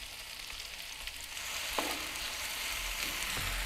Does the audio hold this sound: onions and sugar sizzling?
yes